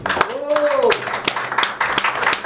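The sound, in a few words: applause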